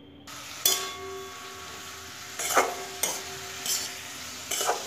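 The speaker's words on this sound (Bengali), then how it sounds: "এবার সব কিছু দিয়ে ভালো মতো নেড়ে চেড়ে মিশিয়ে নেব" Bathua greens are stirred and mixed in a pan with green chillies, turmeric and salt, giving soft sizzling under a few distinct scraping stirs spaced across the clip, close and moderately loud.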